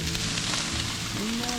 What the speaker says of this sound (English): See the sizzle. Be the sizzle.